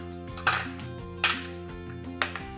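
A spoon clinks against a bowl three times while chocolate chips are stirred into black bean brownie muffin batter. The taps are sharp, evenly spaced and close, with a steady hum underneath.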